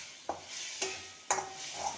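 A vegetable mixture with tamarind-jaggery pulp sautéing in a pan, a soft continuous sizzle punctuated by three sharp spatula scrapes, quiet and close, with no voices.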